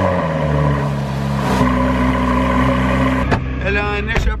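Porsche 911 GT3 RS with an aftermarket backbox exhaust, idling or cruising steadily close up with a sustained engine drone, then a sharp blip and quick rising revs near the end.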